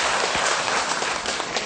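A gathered audience claps together during a Buddhist dharma talk at a temple, a brief, dense burst of hand claps heard alone.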